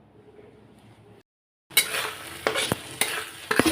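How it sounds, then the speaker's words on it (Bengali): Eggs and potatoes fry in a pan on a home stove at night: after a quiet start and a brief gap, a loud close sizzle breaks in, punctuated by several sharp clinks and scrapes of a spoon stirring against the pan. "তো দেখো ডিম রান্না করছি রাত্রে,"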